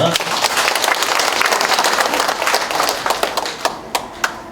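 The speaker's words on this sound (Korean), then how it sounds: "기획예산 담당관에게 큰 박수 부탁드립니다" Applause from an audience at a municipal town-hall meeting in Icheon, a brisk burst of many hands that thins out into a few scattered final claps.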